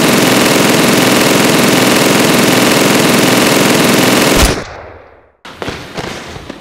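Loud, sustained rapid gunfire rattles nonstop at close range in a parody action scene, then cuts off abruptly, followed by a short silence and a few scattered clattering sounds.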